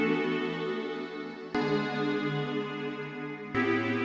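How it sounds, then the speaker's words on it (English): A sustained synthesizer pad layer for a future disco track plays three held chords in turn, each changing abruptly to the next. The pad sounds alone, warm and evenly loud. "This is more like a pad."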